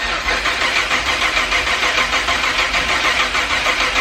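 A new Freedom rocket engine on its second start attempt after flooding, running as a steady loud roar with a constant broadband rush and low rumble, close and unbroken.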